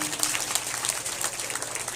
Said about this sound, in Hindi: एक बार इनके लिए भी ताली बजनी चाहिए